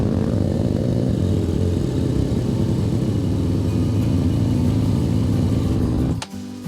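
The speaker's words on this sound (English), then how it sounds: "So let's fire the bike up and then see if she goes down some." A Benelli TnT 135 motorcycle engine idles steadily and loudly up close with an even, buzzing drone, then cuts out near the end with a brief clack.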